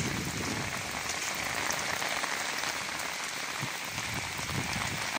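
Heavy rain pours down on flooded city streets, a dense continuous patter of drops on water and hard surfaces, steady and loud throughout with no voices.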